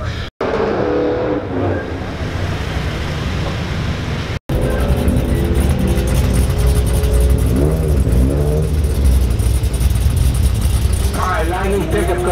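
A 700 hp Mitsubishi Evo X engine revs loudly and continuously at a drag strip, its roar rising in pitch toward the end, while people talk over it inside the car.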